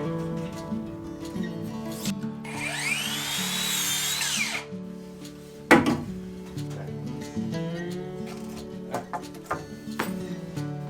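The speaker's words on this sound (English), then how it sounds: "I'm securing the Nobuchi with 75mm screws." A power driver runs 75mm screws into 4cm square lumber of a ceiling frame during a Japanese carpentry renovation: one sustained, whirring drive, then a sharp knock, with clattering handling noises after.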